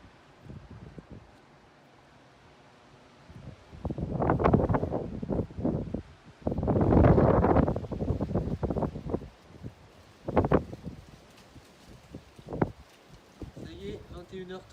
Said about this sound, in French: Ça commence à souffler sur toutes les côtes atlantiques actuellement, hein, ça souffle violemment hein, en tempête